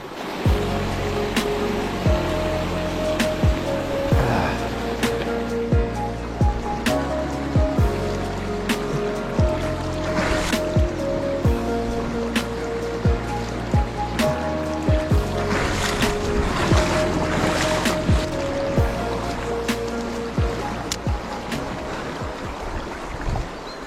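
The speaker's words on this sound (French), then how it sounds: "un endroit comme ça, avec une cascade qui coule de la mousse comme ça là, il n'y a pas mieux" A small waterfall pours over moss beside a stream, a steady close rushing flow with faint knocks and splashes throughout and no voices.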